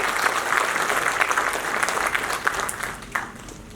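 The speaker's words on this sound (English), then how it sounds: "May we have a huge round of applause for Mr." An audience at an Oxford-style arbitration debate in India applauds steadily for a few seconds, a dense wash of clapping that thins and fades near the end.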